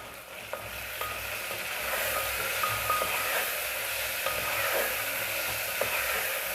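Ginger garlic paste frying in hot oil for a taro curry, a steady close sizzle with light scraping stirring strokes of a spoon against the pan throughout, no voices.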